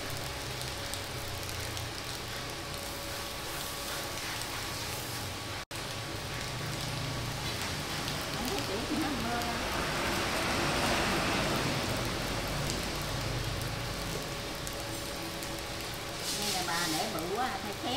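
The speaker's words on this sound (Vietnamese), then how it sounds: "Ngoài trời đang đổ cơn mưa." Rain pours outside a rural Vietnamese orchard home, making a continuous, dense hiss that stays steady throughout, with faint household sounds beneath.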